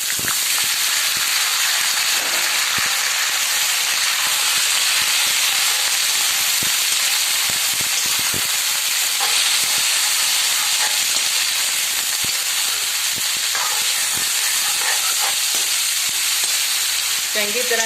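Chopped onions and green chilies frying in oil with cumin make a loud, continuous sizzle with frequent scraping stir clicks from a spoon against the pan, no voices.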